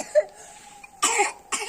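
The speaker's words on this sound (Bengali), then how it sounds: "দেখো গান গাছতে গেছে কাশি উঠে গেছে না" A person breaks off singing with coughing: a faint, quiet vocal passage gives way to two harsh, loud coughing bursts about half a second apart.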